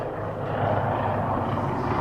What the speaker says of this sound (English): now we've got a helicopter